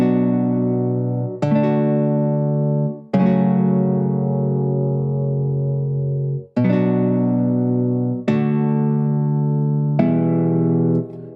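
MIDI chord progression played back in Cubase 11, six sustained synth chords struck one after another with sharp attacks and slow decays, clear and alone without talking.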